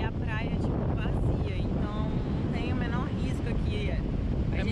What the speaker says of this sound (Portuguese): É muito vento.